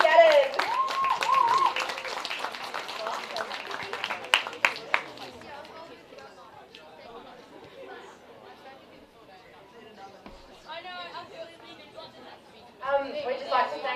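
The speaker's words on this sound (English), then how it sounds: "Awesome, you guys are cheering us on." Supporters clapping and cheering at a 2020 women's football summer cup final, a burst of scattered claps over chatter early on, fading into crowd murmur with people talking, then brief clapping again near the end.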